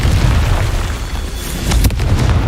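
A Confringo fire spell blast in the Hogwarts Legacy video game erupts as a loud, sustained booming explosion with a crackling burst near the end, with no talking.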